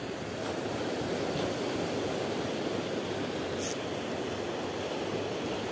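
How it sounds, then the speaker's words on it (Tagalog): Big sea waves crash and wash in a steady, loud broadband roar, with wind noise mixed in, at a spot where people are fishing. "Ang lalaki ng alon."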